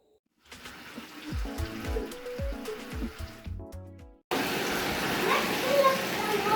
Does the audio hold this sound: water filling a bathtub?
yes